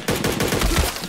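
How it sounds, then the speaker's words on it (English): Quick burst of VSS rifle gunfire in a video game, a rapid string of close, loud suppressed shots lasting about a second. "I just got gunned by a PMC with the fucking VSS."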